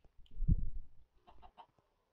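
A chicken clucks in a video game: a quiet burst of low clucks, then a few short, higher clucks after a brief pause, with no talking.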